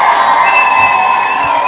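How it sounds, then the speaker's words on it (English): A crowd cheers and whoops loudly and continuously, a dense close wash of shouting voices with applause mixed in. "give brother Demetrius a round of applause"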